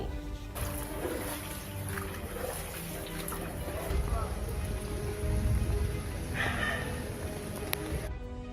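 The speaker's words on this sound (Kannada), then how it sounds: "ಹೊಸಕೋಟೆ, ದೇವನಹಳ್ಳಿ ಸುತ್ತಮುತ್ತ ಮಳೆರಾಯನ ಆರ್ಭಟ ಜೋರಾಗಿತ್ತು" Heavy rain pours down steadily in Bengaluru, a dense continuous hiss of falling water with occasional brief sharper noises, moderately loud throughout.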